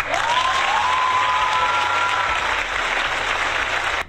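Steady applause from a crowd, dense and continuous for about four seconds before cutting off, with a thin tone running underneath.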